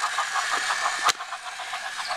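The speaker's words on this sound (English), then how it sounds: "that is 3-speed Thomas, and now he is in second Number 1 engine coming through" A Trackmaster 3-speed Thomas toy train's small electric motor runs in second gear with a steady, bright whirring buzz and a faint rhythmic clicking, close by, with one brief sharp click partway through.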